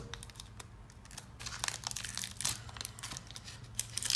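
A packet of Fimo Soft polymer clay is opened up close, giving crinkly plastic crackling and small crunching tears that grow louder and busier toward the end.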